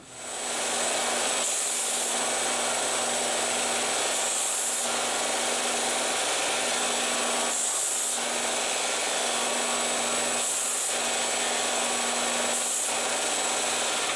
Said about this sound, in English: on the belt sander, clean up the little edges that I've got left